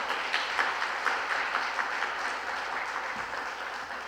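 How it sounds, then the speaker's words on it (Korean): A church congregation at a Friday worship service claps in praise, a broad, even wash of many hands applauding steadily for several seconds without speech. "하나님께 영광의 박수 올리겠습니다."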